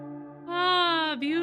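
A bell rings in the Glorious Masquerade video game as a sustained, bright tone rich in overtones, swelling louder halfway through with a brief dip near the end. There is no talk.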